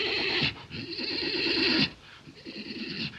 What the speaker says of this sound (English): they got nervous, and they got to milling around, and they got to whinnying.